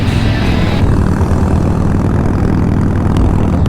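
A motorcycle being ridden hard on the road to Osoyoos, British Columbia, its engine a loud, steady, unbroken rumble that holds close and full for the whole moment, with no voices.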